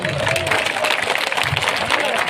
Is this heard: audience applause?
yes